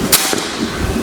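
A single sharp crack of a Predator full-CNC air rifle shot through a chronograph, close and brief, followed by a faint second snap amid low background hum.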